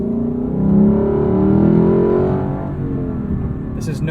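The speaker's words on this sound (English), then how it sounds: "it has a fantastic sounding V8 in the front" 2018 Lexus LC 500 with its front-mounted V8, a deep steady engine drone swelling slightly and then settling, heard from inside the car with no voices.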